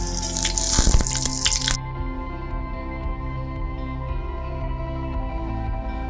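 Cooking oil is poured into a pan to start a Bengali white potato curry: a brief splashing liquid stream for under two seconds, then a quiet, steady kitchen hum.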